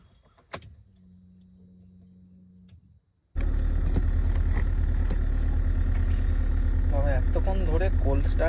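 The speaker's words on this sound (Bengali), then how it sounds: "এতক্ষণ ধরে কোল্ড স্টার্ট হয়ে যাচ্ছে।" A car engine turning over and idling roughly through a long cold start on a winter day, quiet clicks and a hum before a loud steady engine drone takes over, with someone talking throughout.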